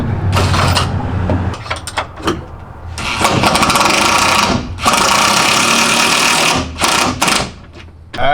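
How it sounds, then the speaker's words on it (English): A box end wrench driver snugs a T-bolt while a canopy is installed on a 2020 Jeep Gladiator in a garage, giving loud, close whirring bursts that stop and start several times. "we'll finish by using our box end wrench driver"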